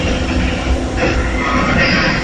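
A tram rolls along its rails with a loud, steady rumble and clatter heard from inside the car during the ride, a continuous low drone with no talking.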